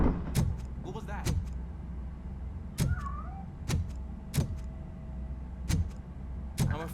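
A cat meows once, briefly, in the Robocop: Rogue City video game, amid a regular series of heavy, thudding mechanical footsteps that recur roughly every second at close range.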